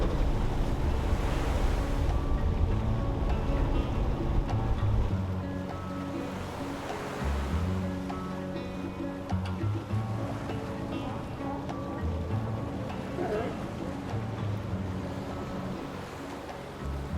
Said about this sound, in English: We're just exiting the marina and we're getting underway now that the fog's lifted.